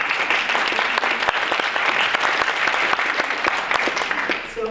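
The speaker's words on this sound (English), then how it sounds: "Round of applause." Audience applause at a presentation on eating disorders, a dense steady burst of clapping from a room of people lasting several seconds, fairly loud and close, with no one speaking over it.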